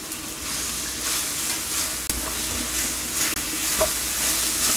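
Tomato paste frying in oil in a pan gives a steady, close sizzle and hiss, broken by a few sharp scrapes and clinks as it is stirred, with no talking.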